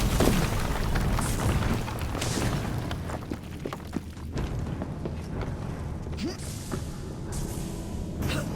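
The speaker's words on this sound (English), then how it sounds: "Piece of Eden detonated and took the lab with it." Explosion in a video game as a Piece of Eden detonates and destroys a lab: a deep, sustained rumbling boom with scattered thuds and debris crackle, loud and continuous throughout.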